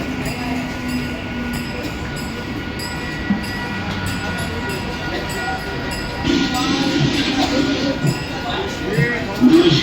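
A Mumbai local train at a station platform, a steady rumbling rail hum with rising clatter toward the end, while announcements and voices carry over it.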